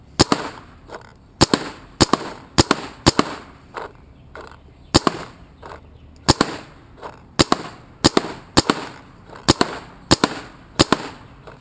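Dangerous Power G3 paintball marker upgraded with a Virtue board, firing sharp, close shots in irregular bursts of two or three, with brief pauses between groups over a low background hum.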